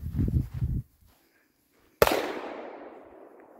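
A single firecracker goes off with one sharp, loud bang that rings out and decays over a second or so, preceded by brief low rustling and a short quiet pause.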